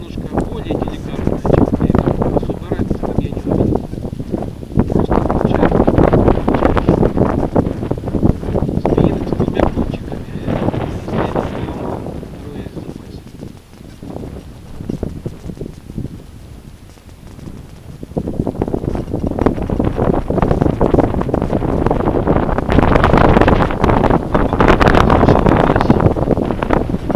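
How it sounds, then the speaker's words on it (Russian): Strong gusts of wind buffet the microphone in heavy, roaring waves, easing in the middle before surging again. "Ветер, дождь срывается"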